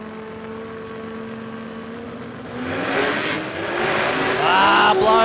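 A big Dodge Coronet drag car at a no-prep drag race at Warwick Dragway, Australia, accelerates down the strip, its engine note climbing in pitch and growing louder as it pulls away over steady background noise.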